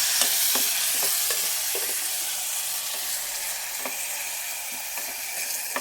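Tomatoes sizzling and frying with browned onions in a pan, a steady broadband hiss broken by occasional stirring scrapes and clicks, close and alone with no talk.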